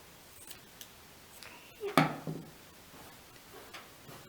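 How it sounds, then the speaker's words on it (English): A few soft snips of scissors trimming the edges of a fabric rag doll, with one sharper cut standing out midway, quiet and close in a calm indoor room with no talk. "I'm going to trim the edges"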